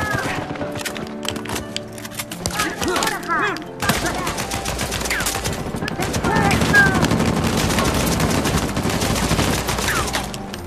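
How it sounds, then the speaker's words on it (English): Gunfire in Uncharted 4 multiplayer: sustained automatic fire in dense, overlapping bursts that intensify midway, mixed with game effects and a player's excited talking. "I'm just shooting in the dust here"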